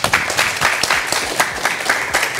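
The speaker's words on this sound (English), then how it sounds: "A round of applause for them." A studio audience applauds a three-member panel on a TV talk show, with moderately loud, busy clapping that holds steady for a couple of seconds.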